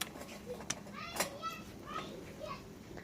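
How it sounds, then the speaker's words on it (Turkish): Children's voices chatter and call out inside a shop, a busy scatter of kids' speech and playful shouts at moderate distance, mixed with background murmur. "Evet, çok çocuk sesleri geliyor."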